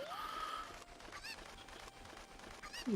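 Chickens cluck and squawk in the Ocarina of Time Randomizer video game, with a few short, bright calls rising over a steady bed of game sound, nearest near the start and end.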